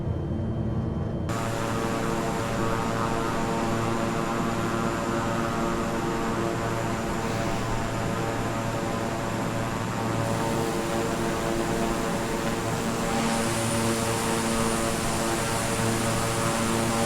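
Beechcraft King Air 350i turboprop engines in Microsoft Flight Simulator 2020, a loud, continuous propeller drone with a steady whine, close and unbroken for the whole stretch, with no talking.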